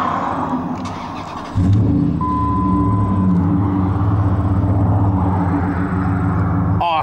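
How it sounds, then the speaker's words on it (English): A 2003 Dodge Ram 1500 SLT Hemi pickup with 185,000 miles cranks and fires up abruptly, then settles into a loud, steady, deep idle rumble close by. "Alright, now let's go ahead and start the engine."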